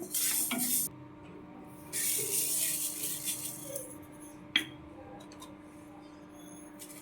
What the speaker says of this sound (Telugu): చూసారు కదా చక్కగా వేగుతున్నాయండి